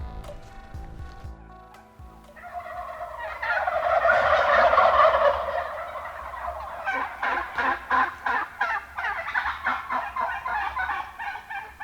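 Many wild turkeys gobble over and over on their roost, a dense chorus of overlapping calls that swells and then breaks into rapid repeated gobbles.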